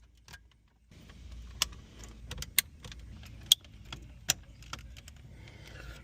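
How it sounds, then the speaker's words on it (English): Cables being plugged into a 12-inch screen in a Ford F-150 cabin, several sharp distinct clicks spaced irregularly over handling and rustling noise. "I think it's that click that you get when you plug them in."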